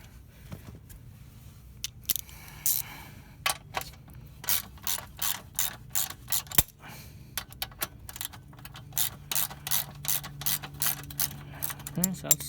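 A ratchet wrench clicks in a steady run of rapid strokes on the exhaust hanger bolt of a Honda CB300R motorcycle, close and distinct, with brief pauses between bursts.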